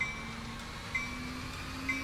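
A train runs in the video game Train Simulator 2013, giving a steady low rumble with a faint hum and soft periodic clicks roughly once a second, with no talk.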